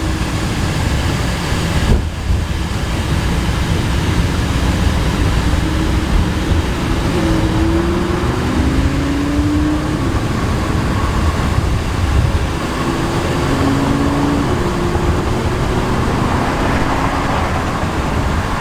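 Lamborghini Huracan driving up a freeway on-ramp, a loud, continuous engine and exhaust drone mixed with road and wind roar, with rising tones as it accelerates.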